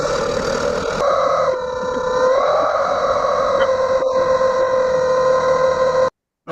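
Rubber chicken toys squawk in a loud, continuous, strained wail at a live studio show, the nasal honk wavering in pitch for about six seconds before cutting off abruptly.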